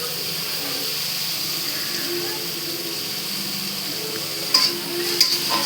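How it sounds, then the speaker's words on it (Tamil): Tomatoes dropped into sizzling masala in a pan: a constant bright frying hiss holds steady throughout, with two sharper crackles and clinks near the end. "நல்லா மசாலா மிக்ஸ் பண்ணிவிட்டு நம்ம எடுத்து வச்சுருக்க டொமேட்டோவை உள்ளே போட்டுடலாம்."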